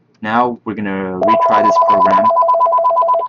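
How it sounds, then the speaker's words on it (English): A telephone rings with a steady electronic two-tone trill, loud and close, starting under a man's speech and continuing alone after he stops talking. "Sorry, that's the phone ringing."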